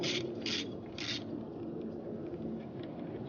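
Torx T30 screws being loosened from the coil pack cover on an Audi during spark plug replacement: three short scraping, ratcheting bursts close up over a low, steady background hum.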